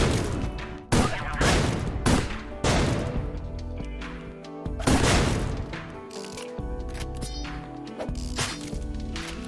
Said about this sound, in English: the skeletons will only go to the noise of the grenade launcher